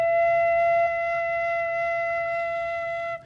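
A bamboo flute sounds its second fingered note, a touch higher than the first, held as one clean, steady tone for about three seconds, fading slightly before it stops, with no other sound around it.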